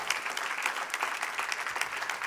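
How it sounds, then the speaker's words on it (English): An audience at a green-tech conference stage applauding a speaker, a brief, even wash of clapping heard from a distance with no voices over it. "A big round of applause."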